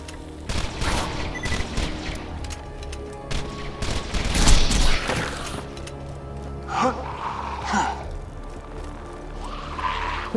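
Video game gunfire from glowing blue projectiles comes in loud, ragged bursts with sharp skidding whooshes, and a player gasps between volleys.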